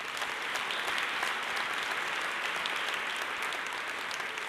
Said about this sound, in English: Let's give Mylan a round of applause.